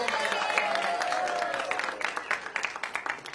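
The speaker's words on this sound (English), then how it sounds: "Can I hear a round of applause out here?" Church audience at a Christmas Jingle Jam service bursting into applause, a dense wash of clapping with scattered cheers and voices that thins toward the end.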